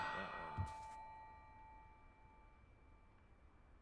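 A bell struck once in a video game gives a bright metallic clang that rings on and decays slowly over several seconds, fairly faint and heard alone.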